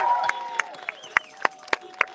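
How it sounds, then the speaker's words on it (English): Crowd applause at a political gathering in Queens, New York, with scattered sharp individual claps in a sparse, uneven rhythm, fairly faint and brief. "Let's give them a great round of applause."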